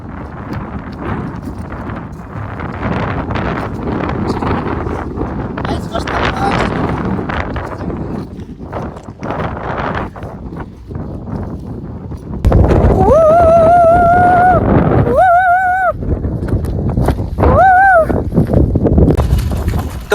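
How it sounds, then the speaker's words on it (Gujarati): A cold, strong wind blows across a hilltop village viewpoint, buffeting the microphone with rough, gusty rumble for a long stretch. Louder tonal sounds cut in later. "જોઈ શકો બહુ મસ્ત ઠંડી ઠંડી તેજ હવા આવે છે"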